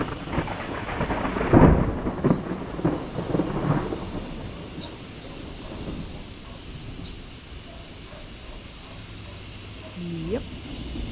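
Thunder from a summer night storm rolls and rumbles, a loud crack-like burst followed by fading low grumbles, with light rain and faint insects underneath and a voice speaking briefly.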